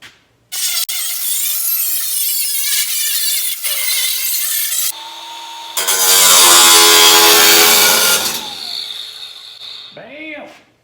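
A power tool cuts through the metal body of a Jeep CJ in a loud, close, high-pitched buzzing whine that runs steadily, shifts into a harsher grinding stretch and then winds down.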